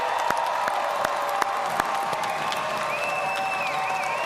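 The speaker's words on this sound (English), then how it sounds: "Let's give our graduates a round of applause" An audience at a 2024 graduate commencement ceremony applauds steadily, dense clapping from a large crowd spreading across the hall with occasional sharper individual claps and faint cheering in the background.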